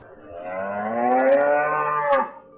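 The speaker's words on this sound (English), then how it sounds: "Meet the Ankole Watusi cattle." An Ankole Watusi cow gives a single long, loud, close moo that rises and holds before cutting off, with nothing else heard around it.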